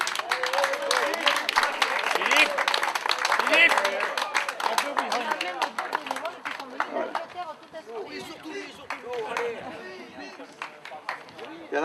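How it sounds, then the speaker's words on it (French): A crowd applauds the team that won the day's event, with dense clapping building loudly for several seconds and then thinning into scattered claps amid chatter and speaking voices. "c'est aussi eux qu'il faut vraiment remercier et applaudir"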